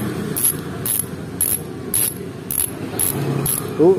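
Fastace bicycle hub freewheel after an upgrade gives rapid ratchet clicking in regular bursts about every half second, close and loud over faint background noise.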